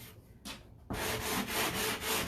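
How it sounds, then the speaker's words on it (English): Steady scratchy rubbing of a sanding block on wood, starting with two short strokes and then settling into continuous back-and-forth sanding, close and fairly loud. "So I'm just going to take the sanding block and,"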